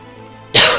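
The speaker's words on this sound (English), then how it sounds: "I'm sorry for coughing on you." A single harsh cough bursts out suddenly after a quiet stretch, close and loud.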